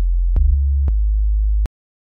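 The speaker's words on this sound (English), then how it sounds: "Let's just add a sine wave." A plain sine wave tone from the Serum synth plays as a low, pure hum lasting about a second and a half, with a few soft clicks and short blips before it cuts off into silence.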